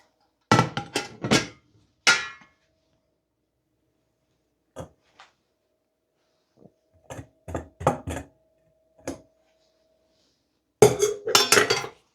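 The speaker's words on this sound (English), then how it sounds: "Scrape out everything that's left." A spoon scrapes the last of a homemade chutney from a pan into glass jars, giving sparse clinks and knocks of metal on glass, separated by long silent gaps and ending in a quick cluster of scraping taps.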